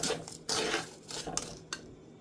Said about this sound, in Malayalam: വെള്ളം തിളയ്ക്കുന്നിടം വരെ ഞാനിങ്ങനെ ഇളക്കിക്കൊണ്ടിരിക്കുവാണ്